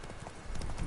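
Horse hooves clip-clop on a hillside as Roach the mount moves in The Witcher 3: Wild Hunt, Blood and Wine, a steady game soundtrack of hoofbeats growing louder toward the end.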